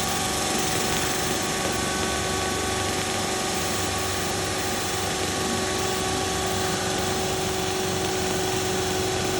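Engine of a pipe inspection and coating machine running steadily, a loud constant mechanical drone with whining tonal hum and no pauses.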